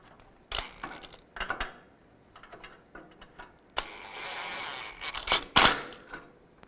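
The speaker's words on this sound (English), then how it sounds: "now I'm going to take a 14mm socket and tighten these nuts down" Sharp ratcheting clicks come from a 14mm socket wrench tightening exhaust manifold nuts on a 2002-2009 Chevrolet Trailblazer, arriving in several short bursts with quiet pauses between them, close and moderately loud.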